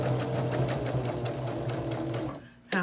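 A sewing machine stitches a quilted bag around a red section, its needle running in a steady, fast, close-up rhythm for over two seconds before it stops, and a short noise follows.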